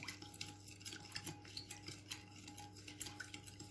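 A spoon stirs milk and sugar in a bowl, quiet and close, giving a run of small rhythmic clinks and scrapes against the sides with no voices.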